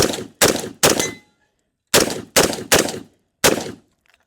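PSA Saber 10 rifle chambered in .308 firing outdoors, seven loud sharp shots in two quick bursts with a pause between, each crack trailing off briefly.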